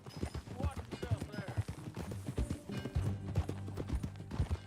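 Steady clip-clop of horse hooves at a walking pace in the video game Red Dead, mixed with soft voices and background sounds, fairly quiet.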